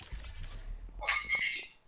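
A door in a video game is smashed in with a bright, crackling, shattering burst that follows a short stretch of low rumble.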